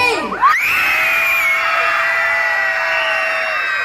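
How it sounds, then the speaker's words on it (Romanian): A crowd of children at a concert screams as loud as they can, a sudden swell into a sustained, piercing roar that stays dense and loud for several seconds. "la 3 vreau să țipați cât de tare puteți"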